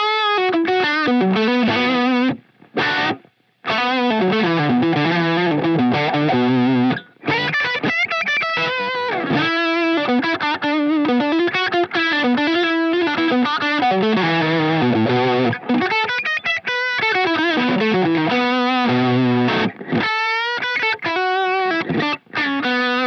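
Electric guitar played through a Line 6 Helix with a dry overdriven tone and no reverb, a continuous phrase of sustained melodic notes and bends with only brief gaps between lines.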